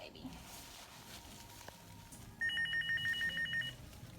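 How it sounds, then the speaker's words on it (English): A mobile phone rings in a hospital room during a new mother's stay, a brief repeating electronic ring pattern that starts partway through, moderately loud over quiet room noise. "This is an inconvenient time for my phone to ring."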